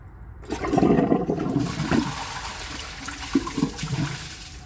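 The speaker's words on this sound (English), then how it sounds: "So let's give this another flush and see if it can take that dish towel the rest of the way." A Glacier Bay high-efficiency toilet flushes with a dish towel in the bowl: a sudden loud rush of water that swells quickly, then eases into swirling, gurgling drainage.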